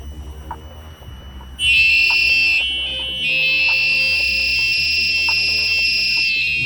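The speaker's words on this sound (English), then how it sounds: "A terrible noise coming from that buzzer." A piercing active electronic buzzer on an Arduino Mega circuit blares a steady high tone, briefly dips, then resumes and holds loudly over faint background noise.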